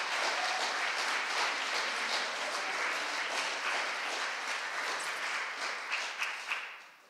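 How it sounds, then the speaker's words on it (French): A competition-final audience applauds six candidates, a dense, steady wash of clapping that stays even throughout and tapers off at the very end. "On peut les applaudir, ce sont nos 6 candidats."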